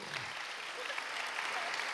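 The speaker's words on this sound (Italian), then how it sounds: "Facciamo un applauso." Audience applause at a book presentation during a literary festival, a continuous wash of many hands clapping, steady and fairly distant without distinct individual claps.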